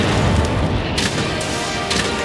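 A placed bomb explodes in Monster Hunter: World, a loud, dense low rumble that runs the whole time, with sharper blasts flaring about one and two seconds in; no voices.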